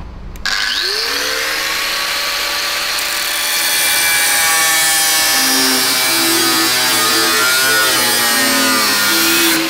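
An angle grinder cuts into a BMW M5 V10 engine, a loud, continuous, high-pitched metallic scream whose pitch shifts as the disc bites, close and steady for the whole stretch.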